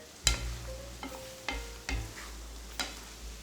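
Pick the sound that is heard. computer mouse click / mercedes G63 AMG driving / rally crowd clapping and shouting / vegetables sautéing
vegetables sautéing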